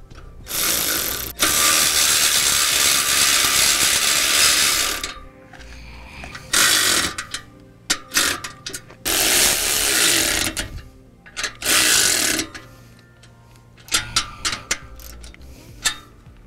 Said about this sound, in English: Keep in mind when tightening down your U-bolts, make sure you tighten them down evenly.